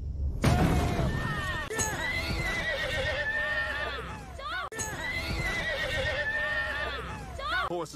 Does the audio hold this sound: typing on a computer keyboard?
no